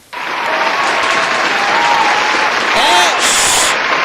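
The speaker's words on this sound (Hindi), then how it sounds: "ताली नहीं बजाना" An indoor audience claps steadily and densely for about four seconds, loud and close, with a few voices briefly rising near the end.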